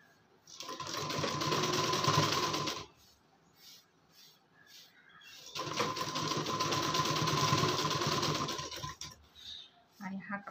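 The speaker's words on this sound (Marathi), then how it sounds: "बरोबर या कपड्यावर बाजूबाजूने टीप मारून घ्यायची" Sewing machine stitching along the edge of blouse fabric for collar piping, two sustained bursts of steady whirring, loud and close, with a quiet pause between them.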